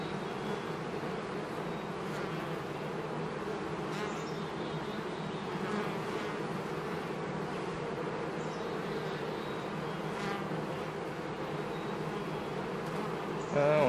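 Dense, steady buzzing of many honeybees around an open beehive during a frame inspection, a continuous close swarm drone with no speech.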